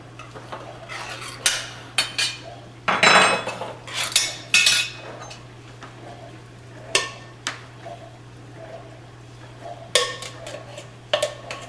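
A metal spoon clinks and scrapes against dishes and cookware in a home kitchen, several sharp clattering hits spread through the clip, near and fairly loud, with no talking.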